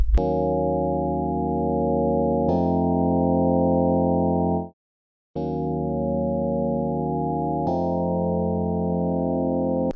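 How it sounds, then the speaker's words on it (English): A sustained, buzzy synth tone with a slowly sweeping, swirling phaser texture, played loud in long held notes with one brief gap of silence. "But the coolest effect I think they add is a phaser."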